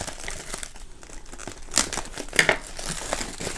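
A taped, wrapped jewelry package being opened by hand, with close crinkling and crumpling of wrapping and a couple of sharper tearing rips as tape pulls loose.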